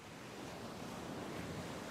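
Ocean surf from a fishing video game, a steady wash of waves breaking and rolling in with some wind, continuous and fairly soft, with no voices.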